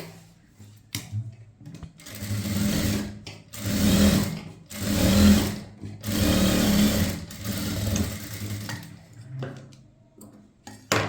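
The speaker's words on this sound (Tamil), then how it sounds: "இந்த ஓரமாக ஒரு தையல் போடுங்க" A sewing machine stitches along a blouse edge in several bursts of rapid, steady mechanical whirring and ticking, each run a second or two long, separated by short pauses.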